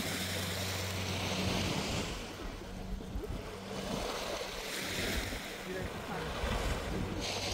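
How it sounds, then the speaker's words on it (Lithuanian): Baltic Sea waves breaking on the shore at Gdańsk, Poland, on a busy November day: a steady, close wash of surf mixed with wind buffeting, rising and falling gently in slow surges. "pasiklausykit bangų mūšos"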